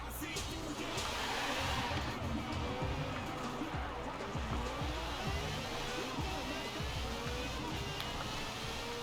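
A Ferrari 488 Pista is driven in the racing game Forza Horizon 4, its engine a constant loud, dense roar that rises and shifts in pitch through gear changes, filling the whole stretch without pause.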